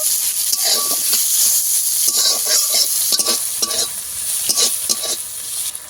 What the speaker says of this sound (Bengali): পেঁয়াজ রসুনটাকে ঠিক আমি এইভাবে ভেজে নিয়েছি